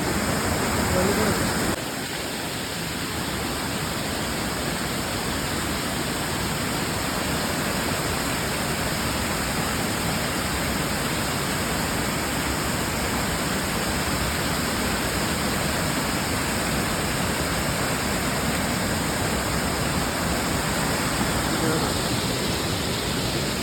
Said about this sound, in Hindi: ये किस तरह झरने में से गुजरना पड़ रहा है और काफ़ी तेज फ्लो है इस बार